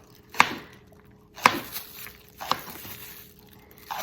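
A knife chops a sweet banana pepper on a cutting board in four sharp, evenly spaced strokes about a second apart, close and crisp with quiet pauses between.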